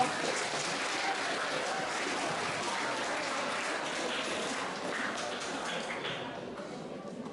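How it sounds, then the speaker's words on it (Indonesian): Students clapping together at a school literacy presentation, a steady even wash of applause that holds for several seconds and tapers slightly at the end. "Tepuk tangan untuk kita semua dulu."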